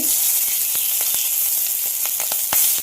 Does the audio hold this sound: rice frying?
yes